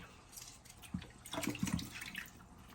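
Tap water runs into a kitchen sink while a whole fish is rinsed for Jamaican-style frying, a steady close splash with brief louder bursts of spatter and dripping.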